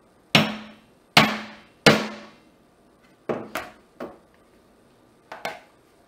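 A hammer gives several generous whacks to a rivet setter while setting a rivet in a leather pipe and tobacco pouch: three loud, sharp close strikes, then a pause and a few lighter taps.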